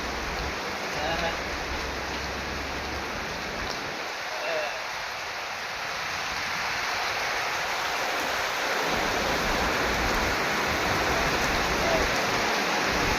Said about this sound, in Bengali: যে পরিমাণে বৃষ্টি হচ্ছে, কিছুক্ষণের মধ্যে খাল বিল অনেকটাই ডুবে যাবে।